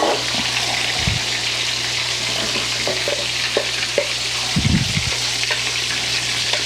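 Steady sizzling and crackling of chicken frying in a pan, with occasional clinks and scraping of a utensil, no talking.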